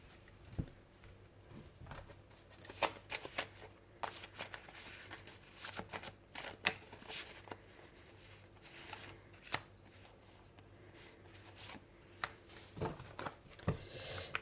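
Oracle cards are shuffled and drawn by hand, soft irregular riffling and tapping close by at low volume, repeated in short bursts with quiet pauses, no voices.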